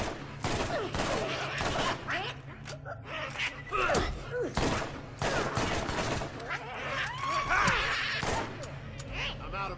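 Rapid gunfire in the Borderlands video game, a steady stream of sharp cracks and thuds layered with game effects, while a player's voice exclaims over the shooting.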